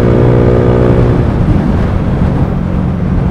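A motorcycle fitted with a new exhaust revs loudly and close by, a rough, throaty engine roar that drops from a steady drone into a broad rumble, with no talking.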